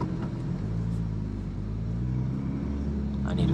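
A Porsche 992 GT3 Touring with a manual gearbox, engine droning loud and steady from inside the cabin while driving on a rural mountain road, a deep continuous rumble that swells slightly toward the end.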